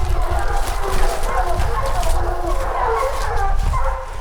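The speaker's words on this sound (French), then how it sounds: "je m'aperçois que les chiens de chasse sont très proches et arrivent vraiment droit sur moi" Hunting dogs bark during a hunt in a forest as they close in. The barking comes in a loud, busy, continuous din of overlapping yelps and rustling noise.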